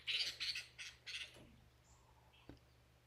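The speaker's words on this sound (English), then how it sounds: "Let's have time to listen to the bird." A bird gives a few harsh, squawking calls in a quick series, then falls quiet. The calls are faint and fairly distant over a low, steady background hum, with a soft click near the end.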